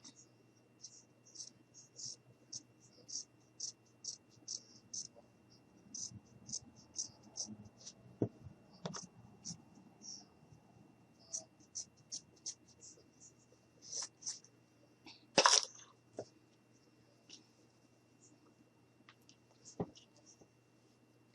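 Scissors snip through craft material while a standing farming gnome is made, a steady run of short, soft, close cuts with brief pauses and a single louder rustle near the middle.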